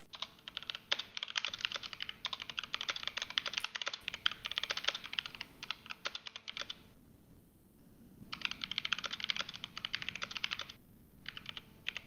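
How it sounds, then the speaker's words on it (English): Someone types fast on a mechanical keyboard nearby, a dense stream of sharp clicks that stops for about a second in the middle and then carries on. "Mechanical keyboard smashing away."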